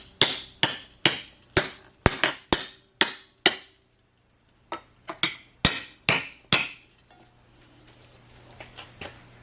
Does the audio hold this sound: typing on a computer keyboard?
no